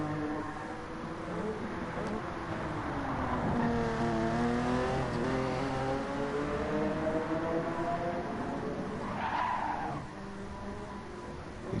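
Engines of mid-engined race cars howl continuously in a racing video game at the Nurburgring, several cars close together with rising and falling revs and a brief tire squeal, loud and steady throughout.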